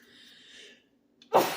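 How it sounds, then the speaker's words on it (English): A soft intake of breath, a brief pause, then one sharp, loud sneeze close to the mic. "I had to sneeze out of nowhere"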